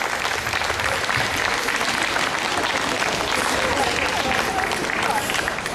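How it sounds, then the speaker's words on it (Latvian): Sustained audience applause for a Ukrainian vocal ensemble at an outdoor minority-ensemble folk concert, a dense steady wash of clapping from a large crowd lasting throughout, loud and even with no break. "Aplausi!"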